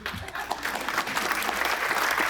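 Dense applause from an audience at a charity awards event, steady and close for the whole moment, with no voices standing out.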